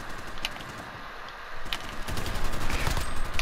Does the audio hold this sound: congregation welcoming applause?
no